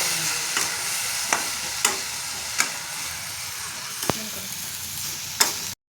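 A spoon scraping and stirring in a pan as milk is mixed into a semolina and coconut modak mixture, with soft periodic clicks over a low steady sizzle and hiss, no talking.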